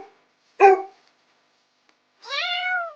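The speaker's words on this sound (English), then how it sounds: "Look, it's a dog. What sound does a dog make?" A dog gives one short sharp bark, then after a pause a longer drawn-out whining bark or yelp, both close and clear against silence.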